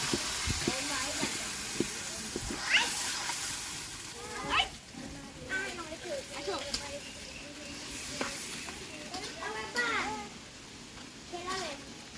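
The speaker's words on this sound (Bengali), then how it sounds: "এখন মাংস তেলের উপর দিব, দিয়ে কষা দিব।" Beef going into hot oil in a pan over a village clay stove, giving a continuous hissing sizzle that runs beneath people talking, including a voice.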